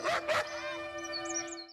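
A dog-like bark or yelp sounds twice in quick succession, then a drawn-out whining tone trails off into short high whimpers, close and alone.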